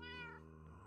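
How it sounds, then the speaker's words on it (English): A single short cat meow from a Minecraft game, heard alone, faint and clear, with a falling tone and no talking over it. "Oh, collected kitty. Good kitty."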